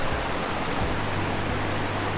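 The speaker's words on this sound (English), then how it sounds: "it's never fun to cross a creek" Steady broadband rush of creek water flowing in a wilderness hollow, a constant close wash with no talk over it.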